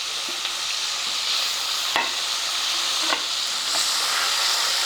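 Raw Totapuri mango pieces roast in a pan and are stirred, a steady close sizzle with a few scraping strokes of the spoon.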